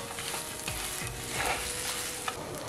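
Potato mixture for aloo chop, seasoned with salt, chili powder and home-ground roasted cumin, coriander and fennel, being stirred in a pan: a continuous sizzle with a few scraping strokes of the spoon, close and steady, no voices.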